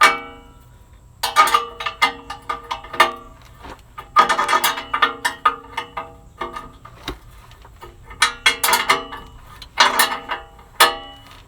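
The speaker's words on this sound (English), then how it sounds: "Loosen up each side little by little so that the clamp can come off evenly." A 14mm wrench loosening a muffler clamp on a 1994 Chevrolet Astro van, with quick bursts of close metallic ratcheting and clicking in uneven groups, no voices.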